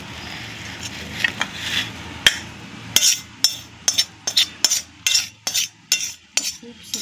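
Homemade bharvi mirchi, cooked stuffed chilies, is served from the pan onto a plate. A spoon scrapes softly at first, then makes a steady series of about a dozen sharp, close metallic clinks against the dish.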